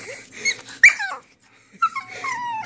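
A pug puppy close by gives a few short wheezy snorts, squeaks and whimpers, separated by brief silences.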